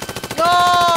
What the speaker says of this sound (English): That sentry gun's going to win it for me.